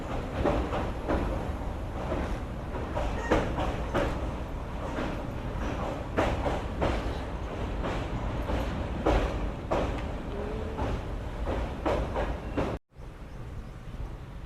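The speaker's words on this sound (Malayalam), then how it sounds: "ട്രെയിൻ ഇപ്പം ബൺട്വാൾ റെയിൽവേ സ്റ്റേഷനിലേക്ക് എത്തിക്കൊണ്ടിരിക്കുകയാണ്" Express train on the Vijayapura to Mangaluru route approaching Bantwal railway station after crossing the Netravati River, heard from inside the carriage: steady loud rumbling roar with rhythmic wheel clatter throughout, briefly dipping near the end.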